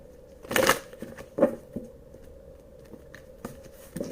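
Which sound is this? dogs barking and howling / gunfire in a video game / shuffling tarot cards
shuffling tarot cards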